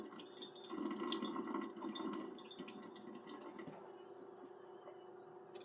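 Tap water runs and splashes into a pot as starch is rinsed out of rice in a home kitchen, a soft steady gush that thins toward the end.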